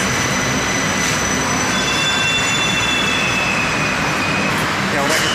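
An LRT light-rail train pulls into a station with a loud, steady roar, high wheel squeal and rail rumble filling the whole stretch, close and continuous.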